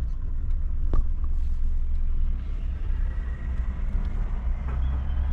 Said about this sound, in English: just look at the vehicles, guys, here driving.